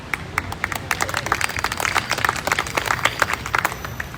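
An audience at a #MillionsMissing ME awareness event in London 2022 applauds for the ME DNA study, a dense, steady clapping from many hands lasting several seconds without speech.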